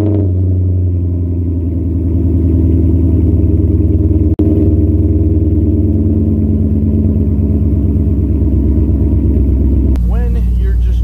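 C5 Corvette engine idling after start-up, a loud, close, steady low rumble with lumpy pulsing, then a sharp change near the end as other sound comes in.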